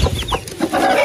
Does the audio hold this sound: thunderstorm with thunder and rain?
no